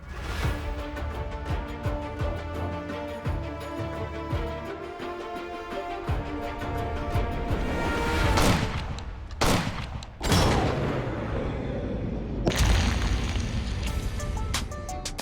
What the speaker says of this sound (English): I have waited half of my life to shoot a Boutet.